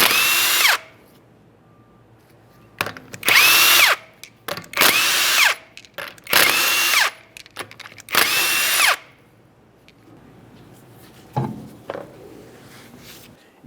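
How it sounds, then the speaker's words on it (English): Five loud bursts of a power impact tool zipping off the 19mm lug nuts on a 2013-2020 Ford Fusion rear wheel, each run a second or so with short pauses between, then a few faint clanks. "continue on to removing all 5 of your 19mm lug nuts and we can get the wheel off of here"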